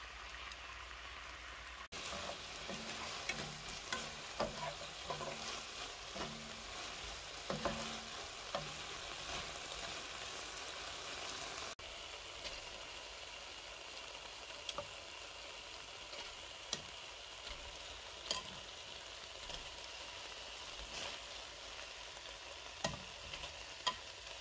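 Chicken browning in a frying pan for chicken and beef with mushrooms, a long, faint, steady sizzle with occasional small pops and light utensil taps.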